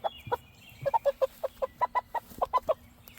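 A large rooster clucks in a rapid series of about fifteen short, throaty notes, some paired and some single, close by over a low background hum.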